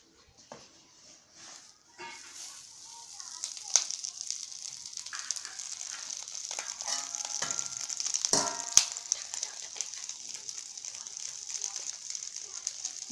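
Egg paturi sizzles in a hot kadai over a gas flame: near-silence at first, then a crackling fry that swells and holds steady, with a few sharper pops.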